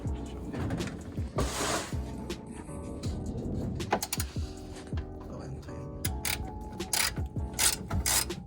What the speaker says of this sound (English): we're gonna grab a half, where is it? Oh, the half socket, and we're gonna loosen up this bolt here